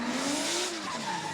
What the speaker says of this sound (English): get a thrill by seeing who can keep their cars sideways with tires blazing